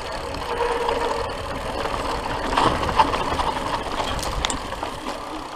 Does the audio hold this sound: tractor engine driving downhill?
yes